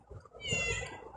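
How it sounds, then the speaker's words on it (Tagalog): A cat gives one drawn-out, pleading meow while begging for grilled food at a seaside spot, close and fairly clear, with faint background noise around it. "yung pusa nangingi ng inihaw"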